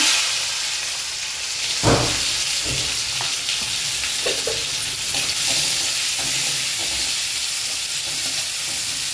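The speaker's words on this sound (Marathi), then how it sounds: "तेल छान गरम झालं आहे मोहरी जिरा कढीपत्ता आणि कांदा" Mustard seeds, cumin, curry leaves and onion hit hot oil for a matki usal, a loud crackling burst followed by a steady close sizzle with occasional stirring scrapes, and no voices.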